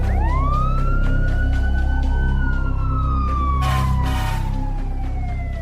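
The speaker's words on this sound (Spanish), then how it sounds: "La sirena de la ambulancia y el camión de bomberos se oyeron a lo lejos." Loud wailing ambulance and fire truck sirens rising and falling together, sustained and overlapping, with a burst of broadband noise partway through.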